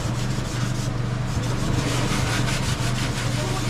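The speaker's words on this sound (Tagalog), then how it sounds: "Liha po daw, liha." Sandpaper rubbed back and forth on a wooden board makes a steady, close abrasive scratching with a low hum beneath it and no pauses.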